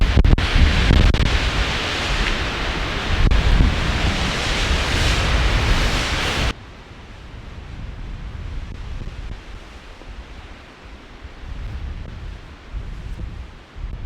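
Roaring gale-force wind at 11,000 feet on an icy mountain climb buffets the microphone in a dense, continuous rush, loud at first and then dropping to a lower, gusting roar.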